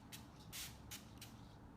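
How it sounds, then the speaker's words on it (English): Rose facial mist spritzed from a pump bottle: four short, soft hissing bursts spaced about a third of a second apart, quiet and close, with no talking. "just kind of from the spray, you get a nice full mist"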